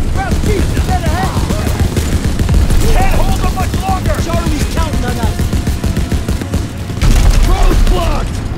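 Mounted gun firing from a jeep in Call of Duty WW2 rattles as dense, sustained automatic fire with heavy booms throughout, loud and close, while voices shout over the clatter.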